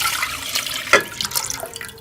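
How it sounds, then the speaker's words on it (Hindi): Milk pours from a container into a cooking pot for a bread rasmalai dessert, a short liquid splash and gurgle that swells and trails off close by, with no voices. "डेचकी में दूध शामिल कर लेंगे"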